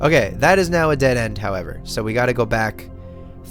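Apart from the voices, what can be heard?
No distinct noise like a dog, phone or traffic.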